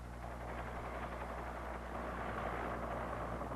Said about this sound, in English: The CH-47 helicopter, while big and high, has front rotor blades to watch out for.